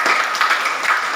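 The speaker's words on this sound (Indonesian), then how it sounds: "Berikan tepuk tangannya dulu" A class of tenth-grade vocational school students in Nias gives a short burst of clapping in their classroom, a dense, loud patter of many hands applauding together.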